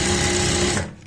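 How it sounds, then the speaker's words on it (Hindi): A sewing machine runs steadily while stitching a palazzo pant, its loud, continuous whirring needle chatter holding for most of a second before stopping abruptly. "सिलाई लगाएंगे।"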